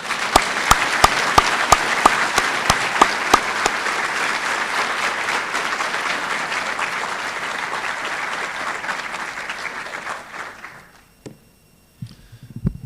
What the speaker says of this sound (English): please join me in welcoming Dr. Givens with a thunderous round of applause